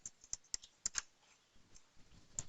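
Light, quiet typing on a computer keyboard as a name is entered into a form field: a handful of separate key clicks with short gaps between them.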